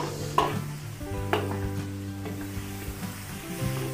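Onion frying in hot oil, a close, steady sizzle with a few sharp stirring knocks from a utensil against the pan, with no talking.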